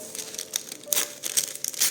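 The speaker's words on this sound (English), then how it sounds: "I was just thinking I might just rip that part here" Paper being torn by hand for a junk journal, a quick run of close crinkling, ripping bursts over two seconds, with no talking.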